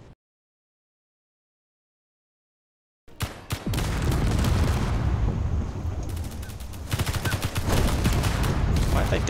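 Explosives detonating in the Space Engineers video game: silence, then a sudden loud burst of rapid overlapping blasts and crackling booms that rumble on continuously, with a second surge of sharp bangs near the end.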